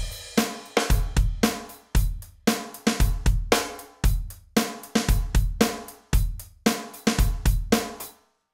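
A drum kit plays a steady rock groove, close and loud, with repeated kick and snare hits and soft ghosted skip notes on the snare between the backbeats, a grade 3 practice pattern.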